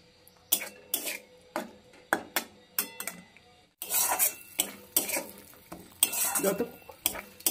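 Ground spice paste for tel koi fish frying in oil as a metal spatula stirs it, giving rhythmic scraping strokes against the pan every half second or so over a steady sizzle that grows busier partway through.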